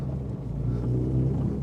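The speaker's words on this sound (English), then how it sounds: "So in here it's like the engine is on your lap. It is noisy, it's loud, it's quite unforgiving." Loud, unforgiving engine drone fills the cabin of a modified Mini R53 with stiff mounts, a steady low rumble heard from inside the car with no talk.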